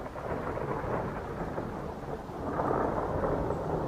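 A Midwest thunderstorm with steady rain hissing all the way through, under a deep continuous rumble of thunder that swells louder toward the end.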